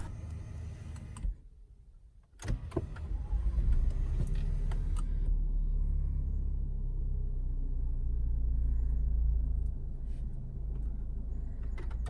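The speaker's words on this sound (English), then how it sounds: "Several times we stop and start the engine." A Lexus RX300 car engine cuts off, falls briefly quiet, then cranks and starts again into a steady idling rumble, close by.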